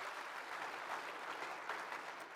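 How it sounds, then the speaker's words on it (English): An audience at a university scholarship ball claps steadily, a dense even wash of many hands sounding distant and faint, continuing without pause. "So you can clap at that, that's awesome."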